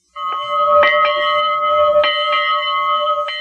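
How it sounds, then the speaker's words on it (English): Bell on SP&S steam locomotive Engine 700 rings with clear metallic strikes, about six peals at an uneven pace, each note ringing on and overlapping the next, loud and close. "The bell on steam engine 700 has been the easiest part of the locomotive to restore."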